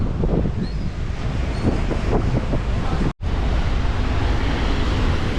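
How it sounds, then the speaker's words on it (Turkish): Rough sea waves breaking against a rocky natural shore with breakwaters at Cancun, a constant heavy roar of surf mixed with strong wind buffeting the microphone. "Burası gördüğünüz gibi aşırı dalgalı."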